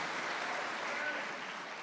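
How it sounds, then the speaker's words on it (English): At the Florida Freedom Summit, a large audience breaks into sustained applause that carries steadily from start to finish. "so let's give a big round of applause"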